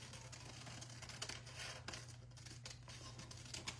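Scissors gently snipping rice paper for decoupage on furniture, a faint run of soft, irregular cuts and light paper rustles close by, with low steady background hum.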